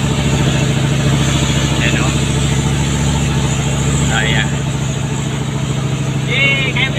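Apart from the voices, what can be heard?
truck engine climbing a steep uphill road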